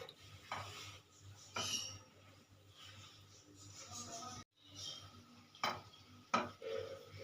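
A pot lid comes off a kadai of steamed bati bhapa pitha, followed by faint clanks, scrapes and light taps as a stick is poked in to check it, all quiet and close.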